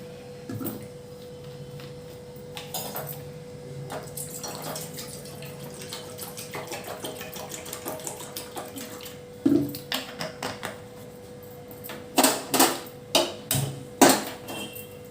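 Water being poured or run for heating to drink, a steady running wash with a faint hum underneath, then a few short clinks and knocks toward the end.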